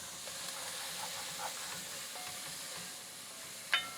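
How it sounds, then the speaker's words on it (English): Food is stirred in a cooking pot with a soft scraping and shuffling over a constant steamy hiss, ending in one sharper clink near the end, with no voices. "Give the pot a stir."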